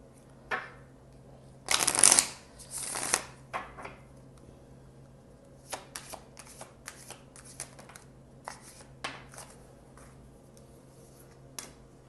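Tarot cards being shuffled by hand: a loud riffling burst near the start, followed by a string of softer, irregular flicks and slides of the cards, close-up against a quiet background.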